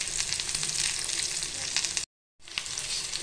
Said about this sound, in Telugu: ఇప్పుడు ఉల్లిపాయ మంచిగా వేగించుకోవాలండి